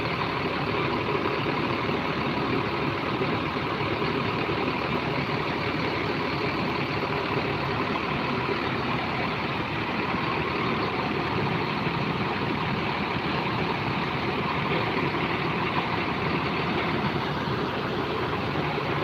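A Metro bus engine runs at a steady idle, giving an unbroken low rumble and hiss that stays close and even for the whole stretch, with no talking.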